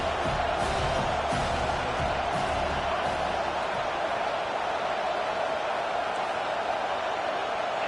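Home crowd cheering in the College Football 25 video game during a third-down defensive stand, with Ball State at home against Miami; a steady, dense roar of the stadium crowd runs throughout with occasional whoops rising above it.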